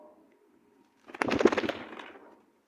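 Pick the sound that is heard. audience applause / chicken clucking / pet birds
pet birds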